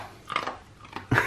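A dog chews crunchy dry food up close, giving a few irregular bites and crunches, the last one loudest.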